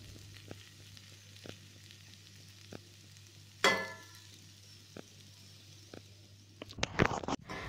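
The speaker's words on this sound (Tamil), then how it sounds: "இப்போ அடுப்பை லோ ஃப்ளேமில் வச்சுட்டு 1-10 மினிட்ஸ் வந்து இதை நல்லா வதக்கிடலாம்." Ivy gourd (kovakkai) sautéing in a pan over a low flame, a steady soft sizzle with a few scraping stirs and one louder clatter midway, then a burst of busy stirring and pan noise at the end.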